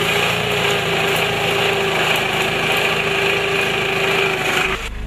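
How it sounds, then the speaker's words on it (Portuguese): A tractor grinds along a rough trail through the Amazon rainforest, its engine droning loud and steady and close up without a break before it drops off abruptly at the end. "Neste ponto da floresta, o trator avança com muita dificuldade."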